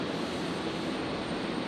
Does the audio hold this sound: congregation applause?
no